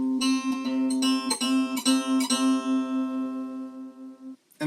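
A plucked string instrument sounds C3 with a C4 tuned about 23.5 cents sharp, forming a Pythagorean octave; a few soft plucks ring together as one steady, clear sustained tone that fades near the end, with no voices.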